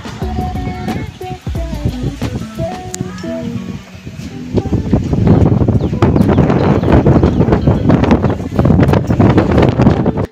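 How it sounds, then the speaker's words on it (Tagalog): Strong wind on a mountain roars and buffets the microphone, growing louder and more constant in the second half, with some faint rustling underneath. "At sobrang mahangin dito."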